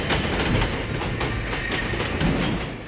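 A subway train runs underground with a dense, continuous rumble and rhythmic clickety-clack of wheels over rail joints, loud and close, with no talking.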